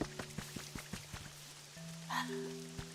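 Rain falling in Pokopia, a soft patter of drops tapping at a regular pace beneath sustained musical tones from the game, with no voices.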